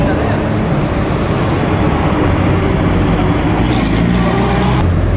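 Classic cars of the Mille Miglia road race roll past with a BMW arriving, a steady loud roar of engines and road noise close by, with a broadband wash throughout.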